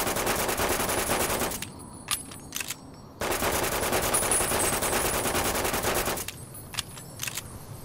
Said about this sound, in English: my glow-in-the-dark or lime green or green assault carbine that shoots nails